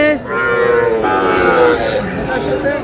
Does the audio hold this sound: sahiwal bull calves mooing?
yes